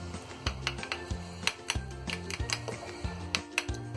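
Mayonnaise and sauce stirred together in a bowl, the spoon scraping and clinking in a steady rhythm of light taps over background music.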